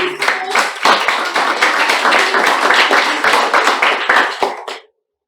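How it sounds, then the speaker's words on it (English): An audience at a Toastmasters club meeting bursts into close, lively applause, many hands clapping together for about five seconds before cutting off sharply; a few voices murmur underneath. "Can we give a huge round of applause to Toastmaster Anup Manandhar,"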